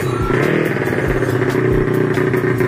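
A Honda Beat scooter warming up close by, its small engine puttering in a steady rough idle with rhythmic revs pulsing through.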